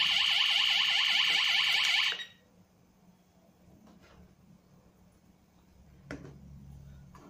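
An RF gas sensor alarm under test emits a loud, rapid pulsing electronic beep for about two seconds, then cuts off, leaving quiet room tone with a couple of faint clicks.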